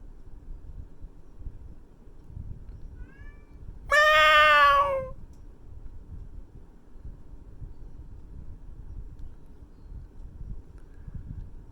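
A cat outdoors gives one loud, drawn-out meow lasting about a second, set against steady low wind noise and quiet surroundings.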